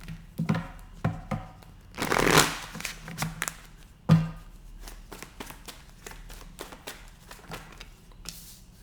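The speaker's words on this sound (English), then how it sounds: "Last shuffle." Tarot cards being shuffled close by in short bursts, with a few louder riffles and soft handling sounds between, no talking.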